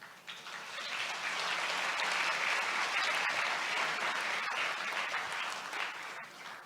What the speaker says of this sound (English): They will only applaud when you announce the billions, not otherwise.